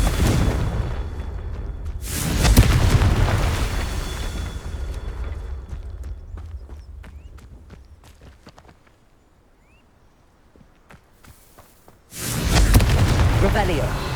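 Confringo blasting spell explosions in the Hogwarts Legacy video game: a loud, deep blast that fades into quieter crackles and ticks, then a second heavy boom near the end.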